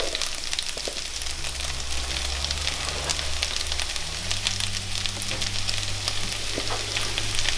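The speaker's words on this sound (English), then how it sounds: "So as you can hear the sizzling of the pan, hopefully through the camera." Onions sizzle in a frying pan for a Sri Lankan green bean dish, a constant, dense crackling hiss close by with a low hum running underneath and no speech.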